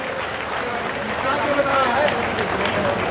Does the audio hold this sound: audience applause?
yes